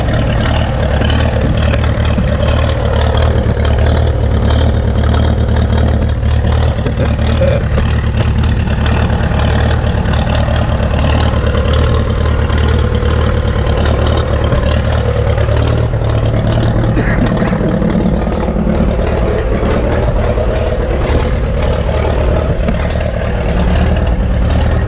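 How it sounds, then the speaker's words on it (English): A 1952 McCormick Super WD-6 tractor engine runs on diesel, a loud, steady, throbbing drone that holds constant from start to finish with no pauses. "So we throw this lever, and now it's running on diesel."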